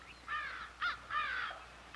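Crows near a sweet corn field caw several times in harsh, evenly spaced calls, fairly close and alone with no talk, over a faint background hiss.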